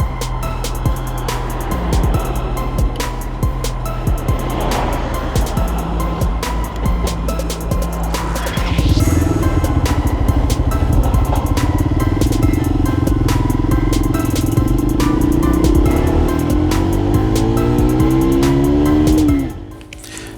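A Keeway RKV 125 motorcycle rides on an open road, its engine drone and wind roar steady at first, then rising in pitch and loudness as it accelerates through the gears before cutting off near the end.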